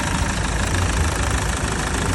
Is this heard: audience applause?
no